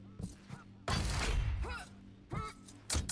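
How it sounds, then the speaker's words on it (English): Railgun shots traded in a Quake Champions 2v2 team deathmatch, heard as sharp, loud blasts with crackling tails over steady game ambience, while a caster's voice talks alongside. "they're just trading rails here"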